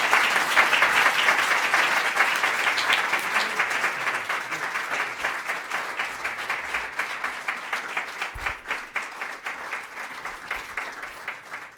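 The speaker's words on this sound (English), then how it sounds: "Let's give him a round of applause." An audience applauds the Governor of California at a bill signing, a dense, sustained round of clapping that gradually thins and softens over about twelve seconds, with no speech over it.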